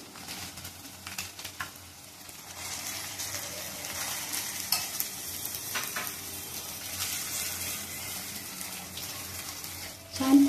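Onion-coconut paste frying in a pan for a Maharashtrian vatana amti, a low continuous sizzle with intermittent stirring scrapes, fairly quiet, ending in a louder clatter.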